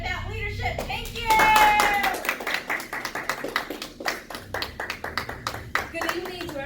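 An audience at a leadership summit claps in a dense burst that thins into a rhythmic patter of individual claps, close and lively, while a speaker's voice comes through briefly near the start.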